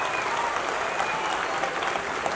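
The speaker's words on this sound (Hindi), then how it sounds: "let's take एक जोरदार तालियां" A crowd at a school annual day function gives a principal a long round of hearty applause, dense and even throughout, with faint voices underneath.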